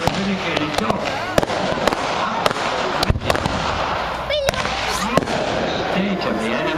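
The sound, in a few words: pyrotechnic rocket explosions in a mock naval battle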